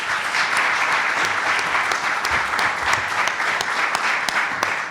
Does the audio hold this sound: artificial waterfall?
no